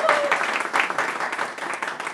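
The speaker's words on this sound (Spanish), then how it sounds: "Sonia, mi esposa, al cual también se merece un aplauso por el trabajo que está haciendo aquí." An audience at a Spanish-language marketing event claps for a woman named Sonia, fairly steady applause of moderate loudness with a few voices mixed in.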